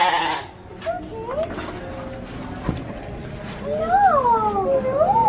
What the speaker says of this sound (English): Girl's found a little sheep.